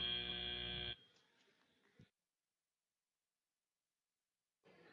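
Loud harmonic buzzer ending a robotics competition qualification match, sounding steadily for about a second, then a softer stretch of crowd and arena noise that cuts out.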